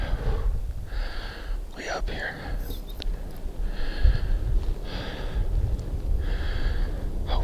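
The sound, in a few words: heavy breathing while hiking up a ridge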